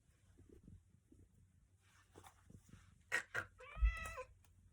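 A pet cat at home lets out two short, bright meows close by, then a longer rising meow near the end, after a few soft murmurs and quiet movement.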